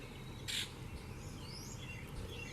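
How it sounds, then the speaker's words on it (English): A grackle calls outdoors with a short harsh burst followed by fainter whistling, rising chirps, heard at a moderate distance over a steady background hum. "Hello, grackle."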